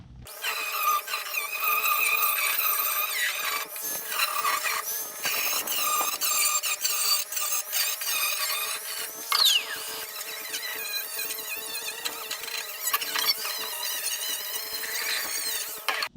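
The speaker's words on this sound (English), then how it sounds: "So now we just keep rolling around on this thing with the grinder and the wire wheel." A grinder fitted with a wire wheel works over boat metal, producing a sustained high whirring buzz that wavers in pitch as the wheel bites. Faint squeals and scratchy bursts come through, and no voices are heard.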